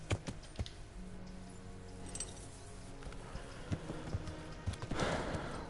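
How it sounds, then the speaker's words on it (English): Horse hooves clip-clop faintly in Kingdom Come: Deliverance, a scattering of soft, irregular thuds over a low game ambience, with a slightly louder clatter near the end. "Like I can call your horse."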